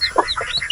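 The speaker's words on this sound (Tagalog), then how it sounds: "Heritage Chicken" A heritage chicken, a Rhode Island Red cross, gives a few quick, close clucks and chirps in a short burst.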